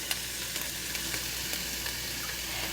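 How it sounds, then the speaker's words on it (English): Onions and mushrooms fry in a pan with a steady, even sizzle and small pops, close and continuous, with no talking. "While the onions and the mushrooms are frying"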